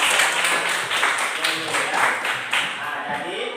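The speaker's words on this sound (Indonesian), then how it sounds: "Nah, kelompok B, tepuk tangan juga." A classroom group of students claps together, brisk rhythmic hand clapping close by, with a voice talking over it.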